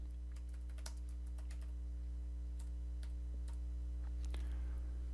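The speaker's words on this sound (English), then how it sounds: "type a new message" Keys tapping on a computer keyboard while writing a new chat message in Microsoft Teams, soft irregular clicks that come in small bursts over a steady low electrical hum.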